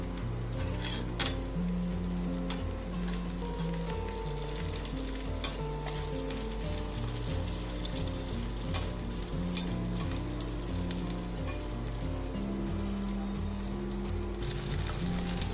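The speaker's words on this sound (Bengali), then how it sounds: "প্রথমে পেঁয়াজটা দিয়ে দেবো।" Chopped onion frying in hot oil for a chicken Manchurian, a steady close sizzle with occasional stirring clicks, continuous and fairly loud, no talking.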